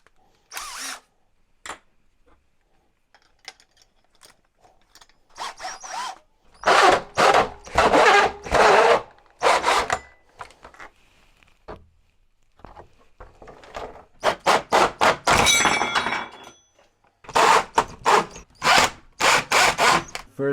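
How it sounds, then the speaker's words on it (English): Power drill boring holes into plastic bins for a small aquaponics setup, heard as repeated close, loud bursts of whirring drilling separated by short pauses, with handling clatter in between. "let's just start drilling and see what we'll end up with."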